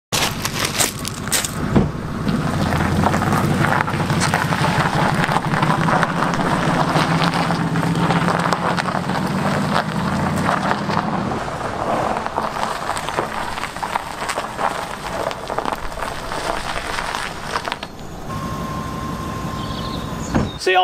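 A steady engine rumble and road roar as a barn-find Lexus LS400 with a blowing exhaust drives down a lane through the gears, continuous and close, with wind noise and a slight shift near the end.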